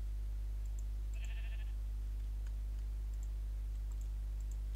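A donkey in the Minecraft video game gives one short, bright call that sounds like a bleat, clear above a steady low hum. The rest is quiet apart from faint clicks, and no one speaks.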